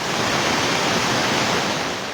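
Floodwater rushes down the Ambalanga River in Itogon, Benguet, a dense, unbroken roar of churning water, loud and close with no voices over it.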